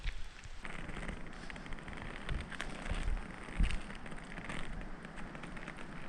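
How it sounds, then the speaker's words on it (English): Steady rain falls outdoors on a cold, wet morning in an Alpine ski area in Italian Tyrol, a continuous close patter with occasional louder drops and no voices. "It's been raining on and off most of the night and it's really cold"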